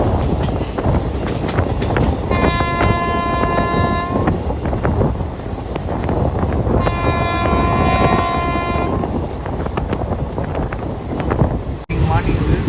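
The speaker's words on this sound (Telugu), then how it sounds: "జంక్షన్ నుంచి కూడా మన ట్రైన్ అయితే బయలుదేరిపోయింది" Garib Rath superfast express from Yesvantpur to Puri running along the track, a loud steady rumble and rattle of wheels and carriages with a sustained horn sounding twice, plus wind buffeting the microphone.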